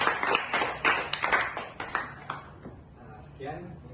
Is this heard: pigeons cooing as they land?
no